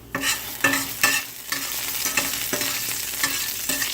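Garlic sizzling in a pan for white clam sauce with linguine, bright frying crackle broken by regular stirring scrapes roughly every half second, close and loud.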